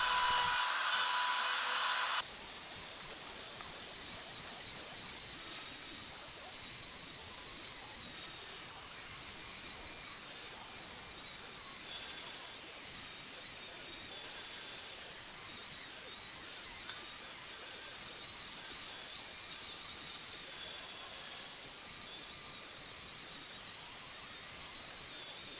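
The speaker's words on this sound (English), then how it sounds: "I'm carefully starting out the routing process here" A router cuts a bow tie inlay pattern into a log coffee table, a continuous loud high-pitched whining roar that holds steady throughout without pauses.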